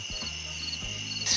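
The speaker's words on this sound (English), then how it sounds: "It's just a bug." A small bug chirps near a van under conversion, a faint, steady high-pitched trill lasting just over a second with low hum underneath.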